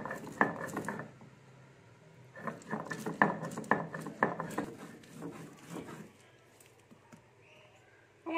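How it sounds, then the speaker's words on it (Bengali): Mustard and poppy seeds are ground together in a kitchen, several bursts of rough grinding and knocking in uneven clusters with short pauses, close and fairly loud, then quieter near the end. "এটা একসঙ্গে আমি বেটে নেবো।"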